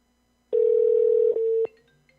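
A telephone ringback tone on an outgoing call: one steady electronic tone lasting about a second, then a short second segment, loud and clear against silence.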